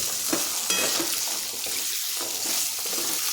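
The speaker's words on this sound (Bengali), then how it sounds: "এখন ওই তেলে ছেড়ে দিচ্ছি কেটে রাখা আলু, দিয়ে দিচ্ছি বিট আর দিচ্ছি গাজর। এখন এটা ভেজে নিতে হবে।" Cut potato, beetroot and carrot fry in hot oil with a dense, constant sizzle and occasional stirring, heard up close with no talking.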